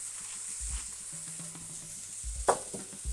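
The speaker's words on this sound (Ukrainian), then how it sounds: "Коли бекончик наш обсмажився, додаємо сюди гриби, додаємо трошки солі, додаємо перця," Bacon and mushrooms, seasoned with salt and pepper, fry in a pan while being stirred, producing a soft sizzle broken by scraping and a sharp utensil knock against the pan.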